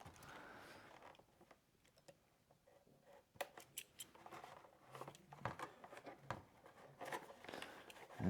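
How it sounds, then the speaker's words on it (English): Scissors snipping packing tape while it is smoothed onto a plastic RC car body, a run of small sharp clicks and crinkles at close range, busier and louder in the second half, with no voices. "you'll have to come in and cut the tape so it can lay sometimes"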